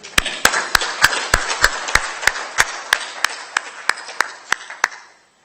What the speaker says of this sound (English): a round of applause indeed